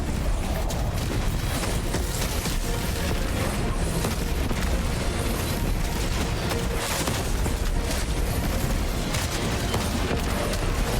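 Grenade blasts in a sci-fi sword video game, dense loud booming and crackling layered continuously in a thick wall of noise.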